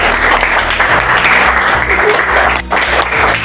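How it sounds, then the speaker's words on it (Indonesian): Classroom applause for a student after a presentation, loud, close, brisk clapping from a group of students that carries on steadily without a break. "Tepuk tangan dulu juga buat Bayu."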